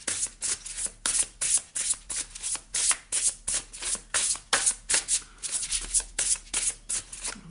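Oracle cards are shuffled by hand in a quick, even rhythm of crisp riffling swishes, about three per second, close and alone without any voice.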